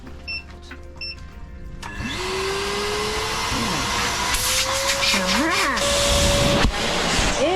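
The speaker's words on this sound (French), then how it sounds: "Nous avons testé l'aspirateur." A 1000-watt vacuum cleaner kicks on about two seconds in, its motor whine rising before settling into a loud, steady whooshing roar. Voices are heard over the noise.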